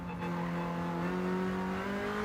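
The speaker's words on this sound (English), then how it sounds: "Car coming out the pits again" Race car in the Gran Turismo 7 video game driving out of the pits, a steady loud engine drone with rising pitch as it accelerates, continuous and close, without talk.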